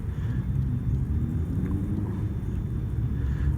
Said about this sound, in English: Stupid loud cars.